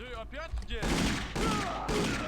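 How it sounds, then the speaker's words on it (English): Rapid bursts of machine-gun fire in the Indiana Jones and the Infernal Machine video game, dense and loud, following a short stretch of game voice and music at the start. "He's got a machine gun and he will rip you to ribbons."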